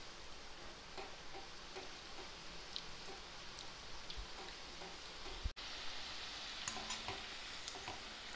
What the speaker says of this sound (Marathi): थोडेसे आपण भजे उलटपालटी करून तळून घ्यायचे